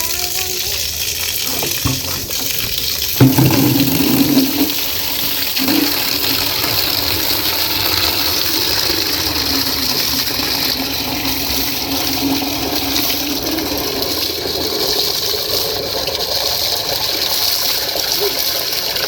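Water runs steadily for a long stretch while a bucket is washed, with a hissing gush, a louder splash near the start, and a voice talking over it now and then.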